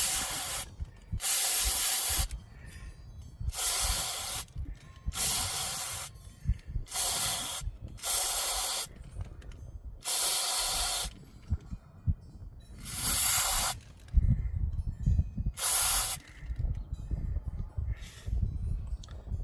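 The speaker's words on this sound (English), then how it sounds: "I'm just using some mass airflow sensor cleaner that I picked up at the local parts store. And we'll just spray it out and see how it looks." Mass airflow sensor cleaner from an aerosol can, used on a 2018 L5P Duramax, hisses out in a series of sharp, close bursts about a second each, separated by short pauses, with no talk.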